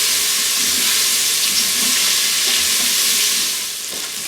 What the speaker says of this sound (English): I'm going to give my onions a stir.